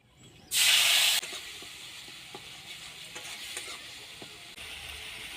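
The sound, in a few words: spice paste frying in oil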